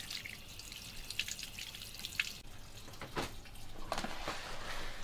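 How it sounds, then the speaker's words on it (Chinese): Tap water rinses out a gutted fish in a kitchen sink, a soft continuous splash and trickle with a few sharper drips and spatters, fairly quiet and close. "取出来以后，把里边冲洗干净"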